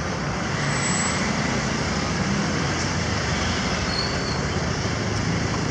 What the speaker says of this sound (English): But at the moment I'm just stuck in traffic.